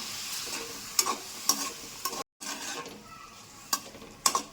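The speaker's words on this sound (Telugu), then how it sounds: "ఒకసారి అంతా కలుపుకోవాలి." A spoon stirs chopped tomatoes, tamarind and salt in a pan for ivy gourd chutney, giving soft scraping strokes with a light sizzle under them and a brief pause partway through.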